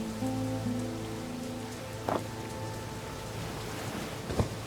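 Video game rain in The Dark Eye: Chains of Satinav patters on surfaces in a continuous hiss, with a low ambient hum and a couple of brief sharper knocks.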